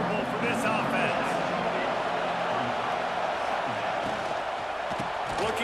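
A packed stadium crowd roars continuously in a college football video game at an Ohio State home game, a broad dense wash of cheering under commentary.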